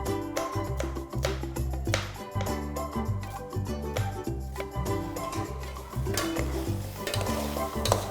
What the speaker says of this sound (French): Je remue de temps en temps pour que ça ne se colle pas en bas.